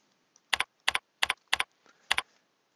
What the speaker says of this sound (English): We'll type in steel.